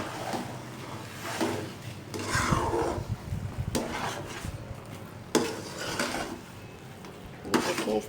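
Suji halwa is stirred in a pan in several separate bursts of scraping and rubbing, close and fairly soft, with short quiet gaps between the strokes.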